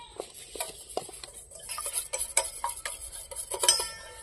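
Eggs being beaten in a bowl with chili powder and salt: a spoon or fork clinks and scrapes against the bowl in quick, irregular strokes, close and fairly crisp.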